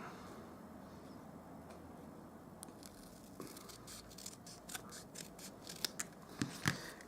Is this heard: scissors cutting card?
yes